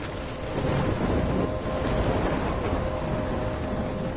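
Video game thunderstorm with rolling thunder, steady heavy rain and gusting wind, filling the whole stretch as a dense, continuous roar with no voices.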